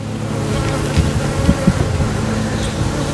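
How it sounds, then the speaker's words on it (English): Bees swarm in an open beehive, filling the air with a loud, dense, steady buzz, with a few soft knocks of handling partway through. "There are a lot of bees in this hive."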